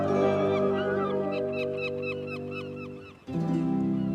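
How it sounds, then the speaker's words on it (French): Seagulls call in a cartoon train scene, a rapid run of repeated bird squawks layered over a tonal music background, loud and close, ending with a brief transition into another sustained tone. "Je suis pas sûre d'aimer les mouettes."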